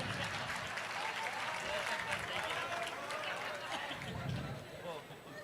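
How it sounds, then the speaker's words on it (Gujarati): A seated audience at a Gujarati dayro folk-comedy program during a Bhagavat week event in Surat claps loudly and continuously, a dense, sustained wash of applause that holds steady to the end. "વધાવો એકવાર ઓ મેરેટરને જોરદાર તાળીથી"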